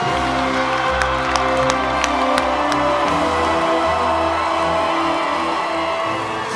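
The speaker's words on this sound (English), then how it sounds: "You stand to your feet. Cheer yourself on and cheer your colleagues on." Graduates at a 2022 FSU commencement ceremony cheer, whoop and applaud together in a large crowd, a loud, sustained roar of voices and clapping with occasional sharp shouts over the top.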